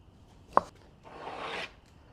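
Ground black pepper is rubbed by hand onto a salt-brined brisket: a sharp tap, then a soft, grainy scrubbing swipe, close and quiet.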